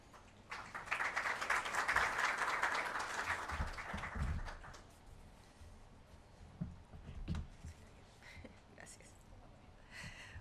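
An audience at a corporate launch event claps to welcome a speaker; a warm burst of applause swells for a few seconds, then fades into scattered claps and low murmuring voices.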